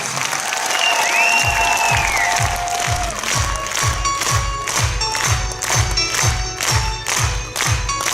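An audience at a 2021 gala concert claps in steady rhythmic unison, loud and even, after a brief opening of whistling tones.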